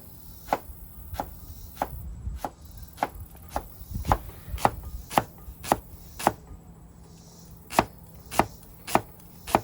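A kitchen knife chops leeks into a fine chiffonade on a cutting board, sharp distinct knocks spaced about half a second apart, close and clear, with no talking.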